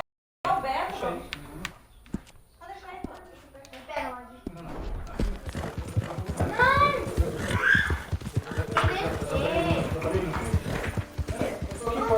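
Horse hooves clip-clopping steadily in the video game Red Dead Redemption 2, a close, continuous rhythmic patter that runs under intermittent talk from a person.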